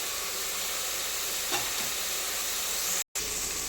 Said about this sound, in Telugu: ఒక 2 minutes పచ్చివాసన పోయి మంచిగా వేగాలి.